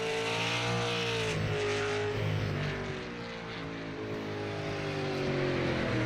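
A super late model race car turns a qualifying lap at North Wilkesboro, its engine roaring loudly with pitch rising and falling as it passes through the turns.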